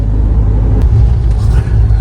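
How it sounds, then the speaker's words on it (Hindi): Road traffic rumbles through Gaya, a loud, continuous low drone of passing vehicles with a few brief higher whooshes, heard throughout without a break. "गया में ट्रैफिक चालू है"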